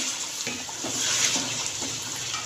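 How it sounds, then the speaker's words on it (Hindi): A few spoonfuls of water are poured into chicken karahi as it fries in the pan, giving a steady hissing, splashing sizzle that swells slightly in the middle and runs the whole time with no talking. "यहाँ पे थोड़ा सा 2 से 3 खाने के चम्मच मैं पानी के ऐड कर दूँगी।"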